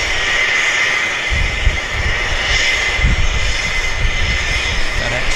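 A BAE Avro RJ airliner taxis at Vancouver airport, its jet engines giving a continuous loud roaring whine heard from outdoors with wind-like rumble underneath.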